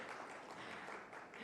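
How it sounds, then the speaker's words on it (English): Steady clapping from a conference audience at an indoor finance summit, a dense, continuous patter that holds evenly throughout at moderate loudness. "let's take a huge round of applause"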